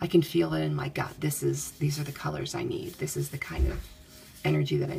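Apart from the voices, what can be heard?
No everyday noises stand out.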